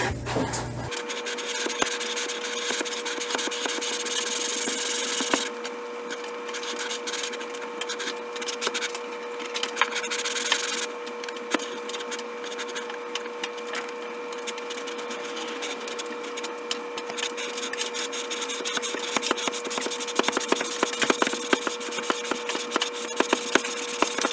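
Steel lapping bar run back and forth through scope rings, a steady rough rasping and rubbing that continues for the whole stretch, close and fairly loud with small bursts of scraping texture.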